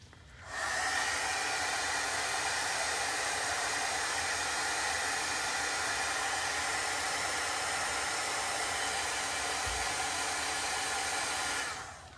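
A hair dryer blows steadily on a chalk paste transfer for a back-to-school craft, a broad continuous whoosh that starts abruptly, holds at an even loud level for about eleven seconds, then cuts off.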